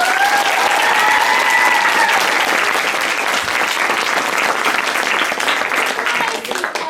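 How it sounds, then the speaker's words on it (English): Loud, sustained audience applause at a Snow White theatre show, dense clapping filling the room from start to finish, with a brief held musical tone fading out early on. "Let's give a huge round of applause for Matthew"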